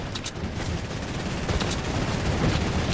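Dense, continuous rattle of mounted turret gunfire in Fortnite Battle Royale, loud and unbroken for the full stretch with no pauses between shots.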